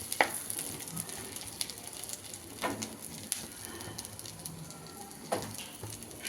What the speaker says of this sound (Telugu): కొంచెం బాగా వేగనిచ్చి